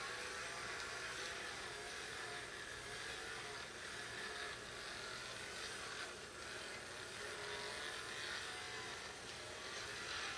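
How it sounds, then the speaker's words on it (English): A Shed Pal pet grooming tool's small motor buzzes continuously while dragged over a dog's coat, a faint, even whirring rasp with slight dips in strength. "you can hear the motor kind of slowing down when you drag it over her"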